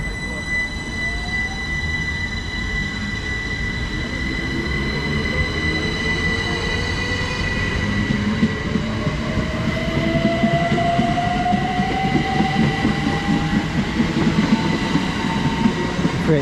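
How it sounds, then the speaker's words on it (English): A Great Western Railway passenger train to Didcot Parkway pulls away from Oxford station, wheels squealing and rising in pitch while the rumble and clatter slowly build; steady station hum in the background. "going out now is the 1501 Great Western Railway service to Didcot Parkway"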